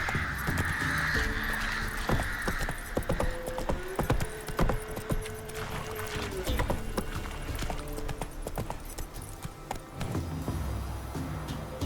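Geralt's horse Roach gallops in The Witcher 3, its hooves clip-clopping at a steady run. Other ambient game sounds and a brief tonal call sit in the background.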